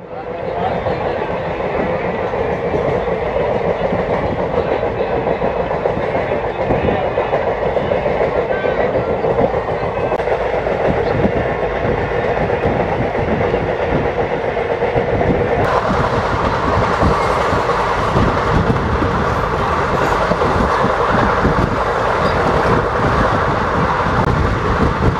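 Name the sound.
Kolhapur–Nagpur express train running on rails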